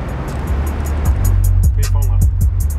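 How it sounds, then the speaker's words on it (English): A new car's sound system plays music loud inside the cabin, heavy sustained bass under a rhythmic beat with sharp repeating percussive hits, close and powerful. "the first thing we had to do was check out the sound system"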